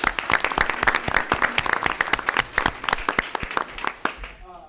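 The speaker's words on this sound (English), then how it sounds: "let's give a round of applause to Andrew Pierce" Audience applause at a Pitt County Schools board meeting for coach Andrew Pierce, a dense run of many hands clapping steadily for several seconds at moderate level, thinning out at the end.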